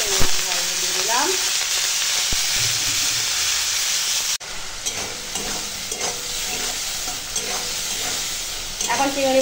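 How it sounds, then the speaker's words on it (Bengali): Prawns coated with salt and turmeric frying in hot oil, a steady close sizzle and hiss with occasional stirring clatter, no talking. "এখন চিংড়ি মাছের নুন হলুদ দেওয়া হয়ে গেছে, আর চলো ভেজে নেবো। তেল গরম হয়ে গেছে, তেল দিয়ে দিলাম।"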